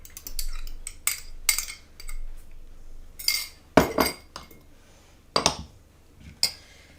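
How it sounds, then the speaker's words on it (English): An egg being whisked in a bowl for a Flan Parisien dough, heard as quick, uneven metallic clinks and scrapes against the bowl in short bursts, fairly close, with no talking. "I always like to whisk the egg a little bit"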